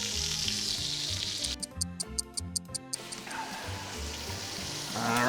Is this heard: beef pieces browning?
yes